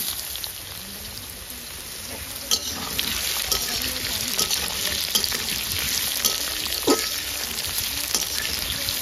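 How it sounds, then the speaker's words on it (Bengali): Potatoes fry and get stirred in a pan at an outdoor riverside picnic on the Ajay river, a steady dense sizzle with occasional scraping clinks and stirring sounds, close and continuous. "আলু ভাজা হয়ে গেছে"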